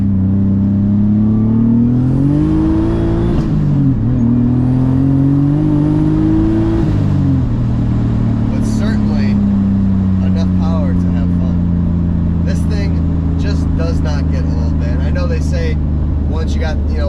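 Turbocharged M50/S52-swapped BMW E34 at 16 PSI pulls hard and spins its tires in second gear, the engine note climbing then easing back to a steady drone, with people talking over the loud close-up cabin sound.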